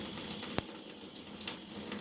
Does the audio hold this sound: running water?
yes